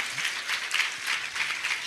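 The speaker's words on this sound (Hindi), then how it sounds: "ताली बजाकर प्रभु को धन्यवाद देने पाए।" A church congregation claps in thanks to God, giving brisk, fairly even applause from many hands in a room, steady and moderately loud throughout.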